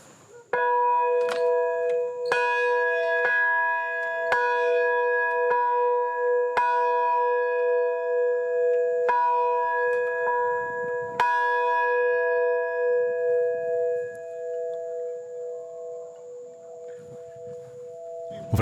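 Church bells ring out in a Polish immigrant community in Alpestre, Brazil, with loud, steady, resonant strikes layered over a sustained humming tone for most of the span, fading toward the end.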